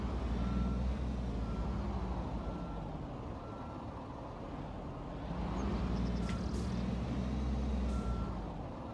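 Steady reversing beeps sound from a backhoe loader in a construction simulator video game, repeating alone over a continuous low engine drone, with a faint hiss near the end.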